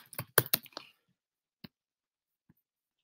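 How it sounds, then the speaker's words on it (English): Computer keyboard typing, a quick cluster of close, sharp key clicks at the start followed by a couple of isolated taps after a pause, faint and dry in a quiet room. "And then I'm going to type in character traits."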